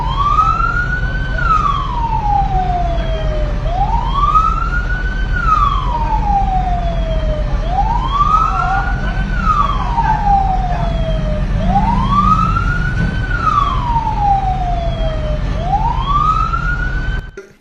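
An ambulance carrying a patient on a road in Thamarakulam, Alappuzha, with its wailing siren sweeping up and down in steady slow cycles, loud and close throughout over a low road rumble.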